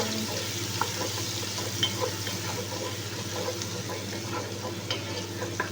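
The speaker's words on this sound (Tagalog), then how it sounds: "Haluin lang po natin ang ating sibuyas." Onions sizzle in a frying pan while being stirred, a continuous close frying hiss with light scrapes and clinks of the utensil, no voices.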